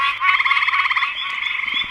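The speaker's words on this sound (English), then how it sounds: "That is a premium leopard frog right there." Leopard frogs croaking outdoors, a close, loud run of rapid pulsed trills that rises into a steady chorus and fades slightly toward the end, no voices present.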